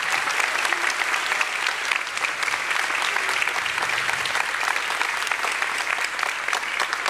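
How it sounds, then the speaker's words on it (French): Steady, dense applause from a large audience fills the whole stretch, loud and even without pause. "On peut encore les applaudir"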